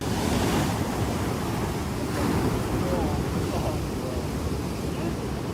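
Big swell surf breaking along Oahu's east shore: a continuous loud wash of crashing waves and hiss, steady throughout with gusty wind buffeting the microphone.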